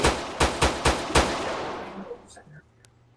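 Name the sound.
gunfire in a video game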